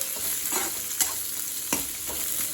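Ingredients for a spicy kaara chutney sauté in a pan with a steady hiss and sizzle, broken by a few scraping stirs of a spoon. Close and continuous, with no talking.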